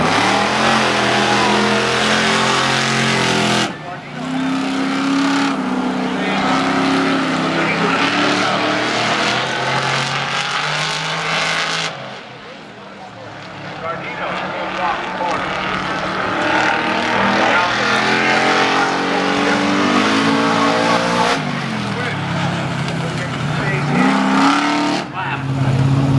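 Stock cars roaring around the Waterford Speedbowl at a back-to-school race night, engines revving and droning loudly with shifting pitch as cars pass, an announcer talking over the din.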